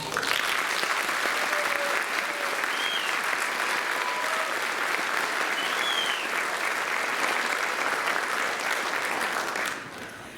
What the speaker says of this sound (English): we'll give you both a round of applause